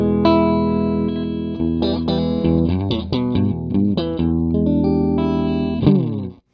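An electric guitar plays a short melodic phrase with a clean, bright tone, notes ringing clearly with light shimmer and no speech.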